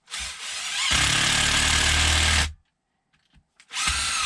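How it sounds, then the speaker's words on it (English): A power drill drives screws through a wood blank made from a half-split piece of firewood, fixing it down for lathe turning: a loud, steady whirring burst lasting about two seconds, a quiet pause with small clicks, then the drill starting again. "And I'm going to screw it down."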